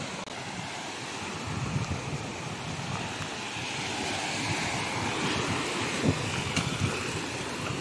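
Ocean surf on a beach on an island's east coast, a continuous broad roar of breaking waves with wind buffeting the microphone, steady and fairly loud throughout.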